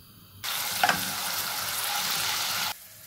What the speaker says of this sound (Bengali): এদিকে আমি রসুনটা ব্রাউন কালার করে ভেজে নিচ্ছি।